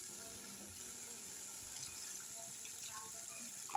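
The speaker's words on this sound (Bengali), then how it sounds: "এবার পরিমাণ মতন জল দেবো আমি" Water poured into a pan of mustard-style fish curry made with small mourola fish in a home kitchen, a steady soft running splash lasting a few seconds with faint background noise and a brief clink at the end.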